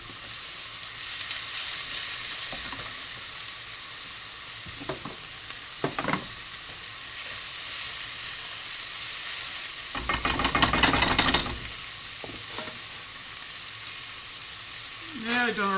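Mushrooms added to a stir fry with egg noodles, a continuous loud sizzle with occasional clatters of a utensil in the pan and a louder burst of frying partway through.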